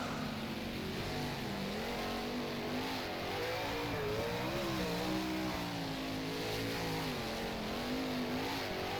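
A 410 sprint car engine in rFactor, running the Ohsweken dirt track: a loud, close, continuous roar whose revs rise and fall steadily throughout, with no talking.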